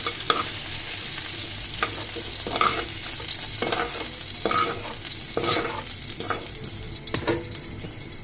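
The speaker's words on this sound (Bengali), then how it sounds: "সুন্দর করে আমি ভেজে নিচ্ছি" Potato and eggplant sizzle in hot oil over a lowered flame, a steady crackling hiss broken by repeated scraping stirs of a spatula every second or so.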